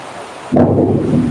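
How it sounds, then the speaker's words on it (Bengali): A sudden swell of heavy, roaring rain that comes in abruptly and holds as a dense, loud wash of sound. "একটা মুসলধারে বৃষ্টি"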